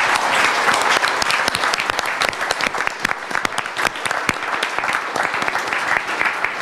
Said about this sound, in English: please applaud our teams again